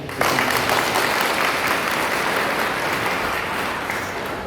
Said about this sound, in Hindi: मैं चाहूँगा कि हम सभी लोग जोर से ताली बजा करके उनको जो है थैंक्स कहें